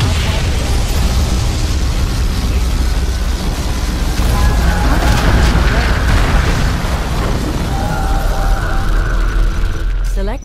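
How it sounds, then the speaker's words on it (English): A particle cannon superweapon fires in the strategy game Command & Conquer Generals, a loud, continuous roaring beam with booming blasts and rising whines sustained for about ten seconds, ending abruptly. "Particle cannon activated."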